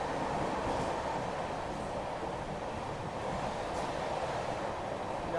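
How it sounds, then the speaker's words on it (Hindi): Rajdhani Express on the Delhi–Mumbai Central Railway route running through Manmad station without stopping, a loud continuous rumble of the passing train with steady wheel noise throughout. "ट्रेन बिना रुके मनमाड रेलवे स्टेशन को पार करते हुए"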